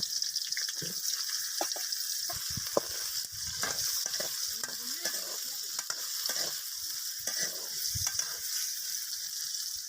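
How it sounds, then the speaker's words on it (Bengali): Potatoes fry in hot oil with panch phoron and green chillies for a vegetarian banana flower dish, giving a steady sizzle with frequent stirring scrapes and clatters close by. "তারপরে আলুগুলো এর ভিতরে দিয়ে ভালো করে ভেজে নেব"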